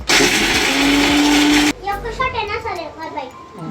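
A mixer grinder whirs loudly and steadily for under two seconds, then cuts off abruptly as a voice begins talking.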